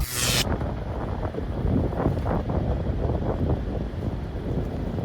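Wind buffets the microphone outdoors on a snowy winter road in Canada, a constant low rumble, steady and close, after a brief burst of hiss at the very start.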